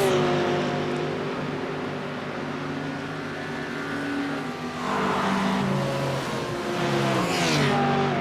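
GT3 race cars in the iRacing sim sweep through a corner of the Nürburgring Nordschleife, engines droning and shifting pitch as they brake and accelerate, with a second car's rising whine layered in toward the end.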